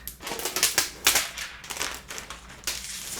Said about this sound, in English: Let me peel away all this extra plastic